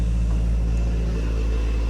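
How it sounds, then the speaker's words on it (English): A hot rod truck cruising by outdoors, heard as a steady low engine rumble with broadband road noise that holds even and fairly loud for the whole stretch. "Oh, my good friend Robert just cruised by in his hot rod."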